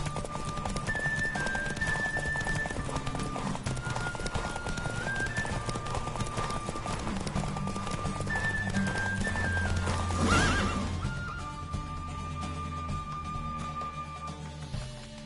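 Roach, a horse in The Witcher 3, gallops in a race with steady rapid hoofbeats, snorts and a whinny over a continuous game music score, the pace surging toward the finish.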